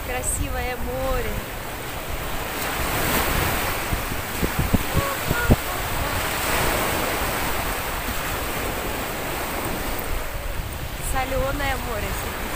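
Sea waves wash onto a sandy beach in steady surges, with strong wind buffeting the microphone and a voice briefly calling out at the start and end.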